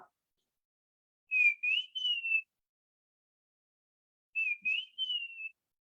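A person whistles an imitation of the common iora's song in two separated clear, rising and sliding phrases, fairly soft against silence.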